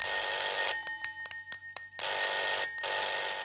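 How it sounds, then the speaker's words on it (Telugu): An old-style telephone bell rings indoors in two long trilling bursts with a short quiet gap between them, fairly loud and alone. "ఏంట్రా ఫోన్ రింగ్ అవుతూనే ఉంది"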